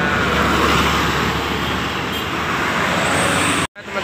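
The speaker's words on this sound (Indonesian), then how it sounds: "Ya benar, Sun. Ini bus Sun." A silver Sun bus passing in an intercity bus convoy on a road toward Jakarta, heard as a steady, loud broadband roar of engine and tyre noise that holds for nearly four seconds before cutting off abruptly.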